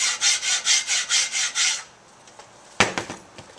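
Sandpaper rubs in steady, rhythmic strokes along a round-belly wooden bow limb made from lumber-store wood, about eight close, even scratchy passes, then a pause and a few lighter knocks and scrapes.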